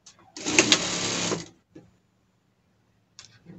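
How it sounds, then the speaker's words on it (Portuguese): A sewing machine stitches a rib knit seam in one short, loud burst of about a second, followed by quiet and a couple of faint clicks and brief handling noises. "rebato a costura aqui."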